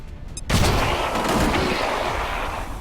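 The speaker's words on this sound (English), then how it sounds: "Alright, first time using gas bomb." A gas grenade in XCOM 2 goes off with a sudden loud blast after a brief quiet moment, then trails into a long rushing hiss and rumble.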